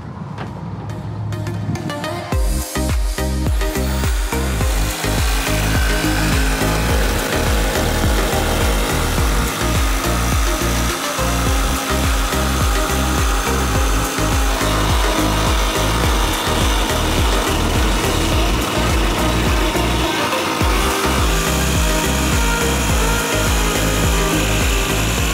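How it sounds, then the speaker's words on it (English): A jigsaw cuts a window opening through a Sprinter van panel, starting after a short pause and then rasping steadily and loudly in a fast choppy rhythm for over twenty seconds, with a brief pause near the end and no talking. "Drill the bigger hole to get the jigsaw blade into the van now, so we can get started on the cut"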